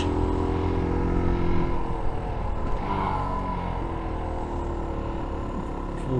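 A car engine with a not very flexible motor drives along a Swiss mountain pass road, shifting into third gear, a steady close rumble inside the cabin with a brief swell in revs early on, no talking.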